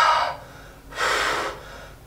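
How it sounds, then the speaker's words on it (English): Two exaggerated breaths out during an abs exercise demonstration, a short forceful exhale followed by a longer one after a brief pause, close to the microphone with no talking. "So if you just listen to the way I breathe for a second."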